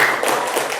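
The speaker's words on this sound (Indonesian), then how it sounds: "Tepuk tangan untuk kita semua." Participants at an on-the-job training session on artificial intelligence ethics give a brief burst of group clapping, a short, fairly loud wash of hand claps with no one speaking.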